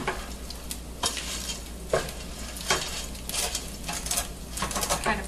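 Fideo pasta stirred and browning in a hot pan, with a steady sizzle under repeated scraping stirs; no one speaks.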